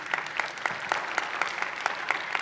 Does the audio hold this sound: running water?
no